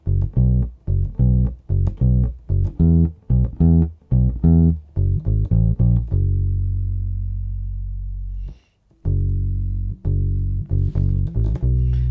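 A bass guitar plays a bass line, a quick run of plucked notes for about six seconds, then long sustained low notes, with a brief gap before the final note rings out.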